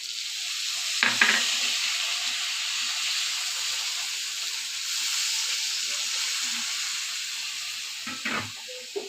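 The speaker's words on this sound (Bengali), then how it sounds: "এবার আমি জল দিয়ে দিচ্ছি।" Water poured into sizzling curry in a pan, giving a loud, steady hiss and steam roar with a couple of brief clanks near the start and end.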